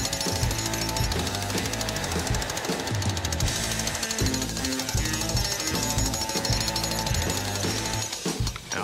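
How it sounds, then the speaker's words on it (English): A jackhammer drives deck spikes into the ground at close range, hammering loudly and continuously with a rapid, steady pulse that hardly lets up. "take these wonderful spikes and drive them using a jackhammer right into the ground"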